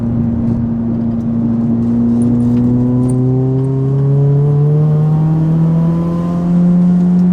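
A 406 bhp Vauxhall Corsa VXR engine revs up hard and climbs steadily in pitch through the gears, loud and close, a sustained rising drone.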